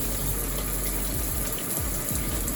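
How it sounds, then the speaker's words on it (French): Cold shower water runs steadily close by, a constant hissing spray with splashing, loud and unbroken, with no talking. "Je sens la fraîcheur de l'eau derrière moi et je suis pas encore sous l'eau"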